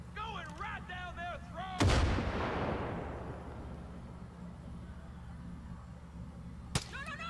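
Gunfire in the video game Far Cry 5: one loud, sharp shot rings out with a long echoing tail, then a second, shorter crack follows several seconds later; a brief voice is heard just before the first shot.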